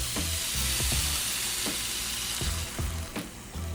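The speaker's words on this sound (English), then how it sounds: "Add some heavy cream to this mixture." Heavy cream goes into a sizzling spicy jerk chicken pasta sauce in a hot pan, giving a steady frying hiss broken by repeated stirring knocks, with no talk.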